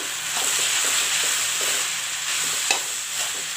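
Chowmein tossed with egg bhurji in a hot pan, a steady close sizzle with repeated scraping stirs and one sharp clink of a utensil; no voices.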